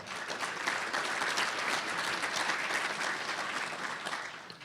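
Sustained audience applause for a city treasurer at a mayor's State of the City address, a dense even wash of clapping from a large room, moderately distant and steady before tapering slightly.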